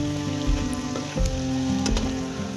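Green pea masala puris deep-fry in hot oil, giving a loud, steady bubbling sizzle up close with occasional thumps of a slotted spoon and no speech.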